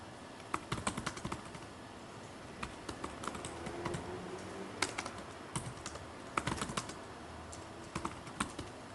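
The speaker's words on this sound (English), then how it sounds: "Is anyone still typing?" Many people typing on computer keyboards during a Fedora automation workshop, scattered clicky keystrokes in bursts of varying density over a low room hum, no talking.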